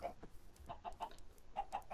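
Minecraft chickens clucking in quick, soft repeated bursts, a rhythmic series of short clucks close by at low volume.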